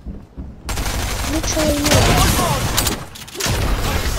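Gunfire and explosive booms in the video game Fortnite, including shotgun fire: a dense, loud, continuous barrage of blasts lasting several seconds, with a voice heard briefly.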